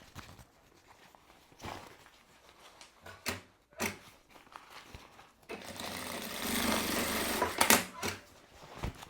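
A sewing machine stitches the lining of a milk carton, with scattered clicks and handling noises before a sustained rapid whirring run of stitching, close by and fairly quiet.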